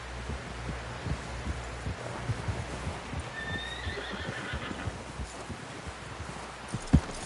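Horse in the Red Dead Redemption 2 video game whinnying and snorting over steady clip-clop hooves, with a sharp louder thump near the end, heard up close amid busy ambient game sound.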